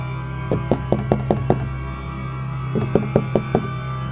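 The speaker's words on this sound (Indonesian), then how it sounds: "Suara ketukan pintu terdengar." Two sets of five crisp knocks on a wooden door, evenly paced and fairly close, separated by a short pause over a faint steady background hum.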